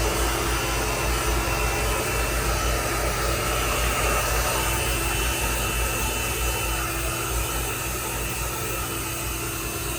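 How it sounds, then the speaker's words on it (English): A hair blow dryer fitted with a concentrator nozzle runs continuously during hair styling, giving a steady loud whooshing roar with a constant motor hum throughout. "So now rotate my handle of my blow dryer, rotate the concentrator"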